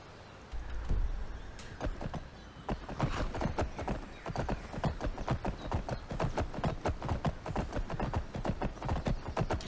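Horse hooves clip-clop in a video game, a fast, steady stream of close, sharp hoofbeats that keeps going for several seconds, with a horse neighing.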